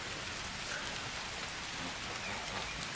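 Rain falling steadily on a garden, a dense, even hiss of drops at moderate volume that continues throughout without a break, no talking.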